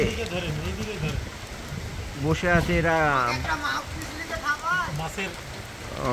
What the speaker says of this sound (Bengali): অবশেষে দীঘাতে রহমতের বৃষ্টি হচ্ছে